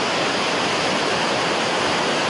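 Floodwater gushes near a tunnel in Tbilisi, making a loud, steady, broadband roar that stays constant throughout, with no voices.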